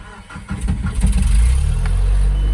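A minitruck's small engine cranks and catches, then settles into a loud, steady rumbling idle close by.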